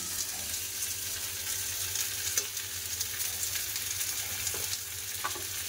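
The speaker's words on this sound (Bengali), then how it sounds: "এই সবজিগুলো পেঁয়াজের সাথে ভালো করে ভেজে নেবো" Papaya, green banana and potato pieces fry with onion in a pan, a continuous close sizzle with faint scraping as the vegetables are stirred.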